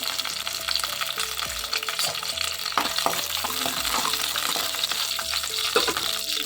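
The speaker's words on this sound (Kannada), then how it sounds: "ಸೊ ಫಸ್ಟಾಗಿ ಸ್ವಲ್ಪ ಬಿಸಿಯಾಗಿದೆ, ಮೆಣಸಿನ್ಕಾಯಿ ಹಾಕ್ಕೊತಾ ಇದ್ದೀನಿ" Green chillies and garlic sizzle and crackle in hot oil in a pan, a constant close frying hiss with occasional stirring clinks and no speech.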